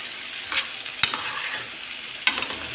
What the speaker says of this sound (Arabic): انزل بالفلفل الالوان، ناخد تشويحتين نغطي عليها يندمج مع المكونات